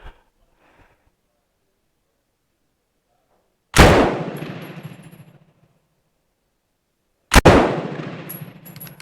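A Bren MK2 gun fires two loud, sharp single shots several seconds apart, each with a long ringing decay, in an otherwise quiet outdoor setting.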